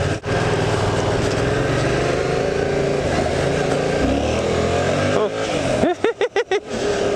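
Yamaha MT-07 motorcycle with an aftermarket Akrapovic exhaust, its engine running loud and close throughout, then a burst of sharp revs near the end as people talk over it.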